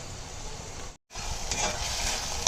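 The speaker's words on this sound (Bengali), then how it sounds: "এখন এটা ভাজা হওয়া পর্যন্ত অপেক্ষা করবো" Fish frying in hot oil for a fish recipe, a steady close sizzle and crackle that drops out briefly near the middle, then resumes fuller and brighter with a few sharper pops.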